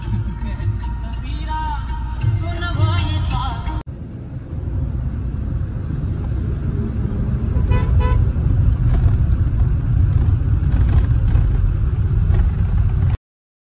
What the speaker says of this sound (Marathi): गाडी निघली आमची ओढ्यावर